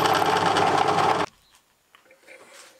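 A metal lathe cuts a small chamfer on a part for a Stuart 10V model steam engine, a loud steady close whir that stops sharply after about a second, followed by faint shop noises.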